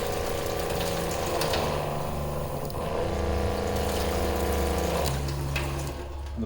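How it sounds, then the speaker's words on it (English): A SEAFLO 115V 3.3 GPM on-demand water pressure pump runs at full flow, giving a steady, fairly quiet motor hum with rushing water that holds constant throughout, with no talk. "So we'll plug that in, 115 volts. And the pump starts."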